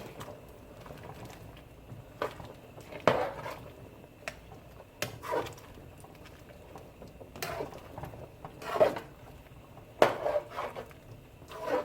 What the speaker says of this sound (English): Now I'm gonna add corn, scallion and thyme, and a green pepper